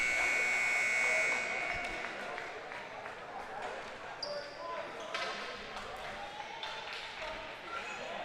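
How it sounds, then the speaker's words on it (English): A loud electronic buzzer at a men's masters hockey game sounds at the start, a sustained tone lasting about a second over arena crowd noise, which carries on afterward. "Buzzer goes."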